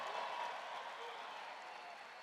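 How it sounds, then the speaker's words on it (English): Applause from the crowd at a Trump re-election campaign rally in Las Vegas, a steady wash of clapping heard from a distance that fades slightly over a couple of seconds. "Give them a big hand."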